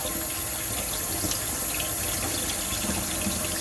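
Water rushing from a hose through a pump sender unit into a bucket during an install, a steady, even hiss-like flow lasting the full few seconds, close and unbroken, with no voices.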